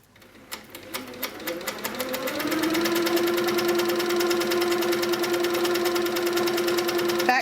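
HQ Sweet Sixteen quilting machine stitching a swirl, starting with a few separate needle knocks that speed up into a loud, steady mechanical hum with a rapid rhythmic clatter.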